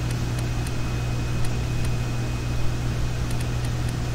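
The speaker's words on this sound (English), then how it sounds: "Kick engine on." A vehicle engine in the video game StormWorks runs as a steady, low mechanical drone with a constant hum, holding an even level throughout with no voices.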